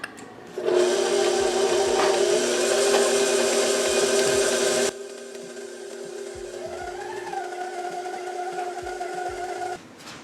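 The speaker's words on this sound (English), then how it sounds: "I'll start out mixing it with the paddle attachment, and then I'll switch to the dough hook." A stand mixer runs a steady electric whir while its paddle attachment mixes honey wheat bread dough. The drone holds loud and close, then drops to a lower, softer hum with a faint wavering tone before cutting off.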